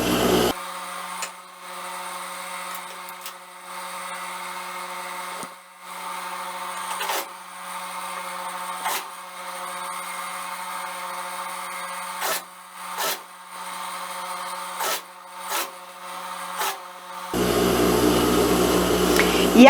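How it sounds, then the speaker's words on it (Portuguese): Overlock serger finishing a seam on fabric, a steady mechanical whir with short stops and restarts, close and alone without talk. "agora eu vou lá pro overlock para passar o acabamento"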